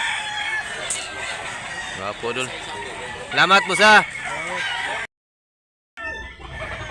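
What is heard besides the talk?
chickens clucking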